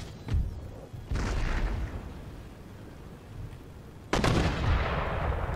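Rifle volleys from skirmishers and riflemen in an Empire: Total War battle with the Italian States. Two heavy bursts of gunfire crackle close and loud, separated by a rolling rumble of battle.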